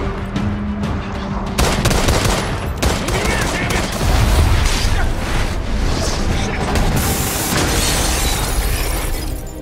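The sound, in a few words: gunfire in an action film scene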